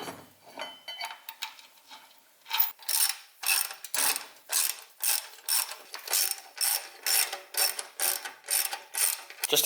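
Repeated ratchet clicks from a hand ratchet tightening frame lock bolts while mounting the brackets of an Iron Cross Automotive stubby rear bumper onto a truck frame, with about a dozen rhythmic bursts of close, crisp clicking and no talk.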